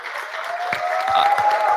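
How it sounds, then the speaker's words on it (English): An audience at a youth ecopreneur award finals applauds after a contestant's pitch, a dense, steady burst of clapping close by with no talk. "A round of applause for that passionate pitch by Mr. Mashur Hussain of iPage from Bangladesh"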